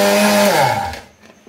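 An electric blender whirs loudly as it churns yogurt into homemade butter, a steady motor drone with harmonic whine that winds down and cuts off after about a second, leaving near silence.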